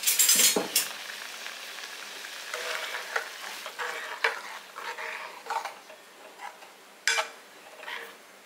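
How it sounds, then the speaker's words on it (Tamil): Close-up scraping and clinking of a spoon stirring kara chutney in a pan over soft bubbling and sizzling as it boils, in irregular strokes. "கார சட்னி வந்து கொதிச்சுக்கிட்டு இருக்கு."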